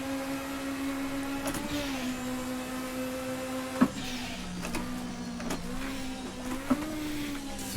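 A DRM race car engine in the Assetto Corsa racing game holds a steady loud harmonic drone with a few brief rises and dips as it shifts and settles through corners, with no voices.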